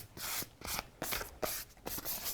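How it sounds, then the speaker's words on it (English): Rhythmic scratchy strokes of a 220-grit sanding pad rubbed back and forth on a furniture finish, about six passes, close and fairly soft, with no voices. "just take a 220 sanding pad and just take off some of that sheen."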